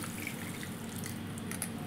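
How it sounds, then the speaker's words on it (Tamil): Palm jaggery water poured from a container into a ragi flour mixture while making sweet steamed adai, a soft steady trickle and splash at close range with faint background hum and no talking. "இப்போ நம்ம எடுத்து வச்சுருந்த நாட்டு சக்கரை தண்ணி அப்படியே ஊற்றிக்கலாம்."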